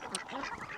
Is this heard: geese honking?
yes